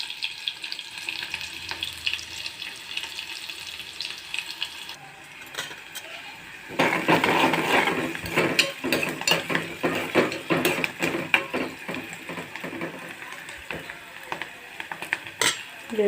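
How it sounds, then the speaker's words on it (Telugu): Green chillies and onions frying in a pan: a quiet start gives way near the middle to a loud, steady sizzle, with clinks and scrapes of a utensil stirring against the pan. "పచ్చిమిర్చి, వేసుకొని బాగా వేయించుకుందాం."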